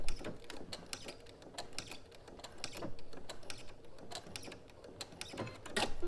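A sewing machine stitching a fabric band on a robe, with close mechanical clatter and rapid ticking in short uneven runs, moderately quiet with no talking.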